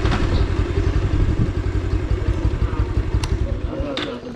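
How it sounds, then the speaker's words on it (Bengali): Motorcycle engine running steadily up close with a pulsing mid-low rumble, ridden early morning along a rural wetland fish market, with faint clatter and a few sharp bird chirps above. "বাইকের সাউন্ডের জন্য আপনারা পাখির ডাক শুনতে পাচ্ছেন না"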